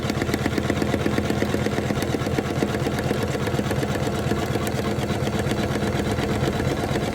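A Janome 500e embroidery machine sews a satin stitch around a Christmas tree ornament, its needle hammering in a fast, even, continuous drone that stays loud and close throughout with no voices.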